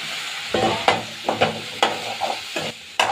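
Potatoes fried with flat beans for a curry, stirred in a pan: a steady sizzle runs throughout, broken by about eight distinct scraping stir strokes in an uneven rhythm, close and fairly loud.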